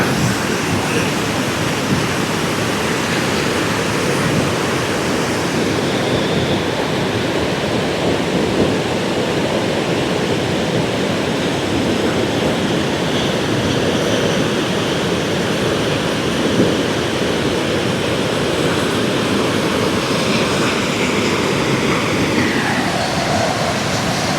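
Steady, dense roar of a waterfall along the NH-516E ghat road at Valasampeta, fast water crashing in a continuous loud wash heard up close, unbroken from start to finish and without any speech.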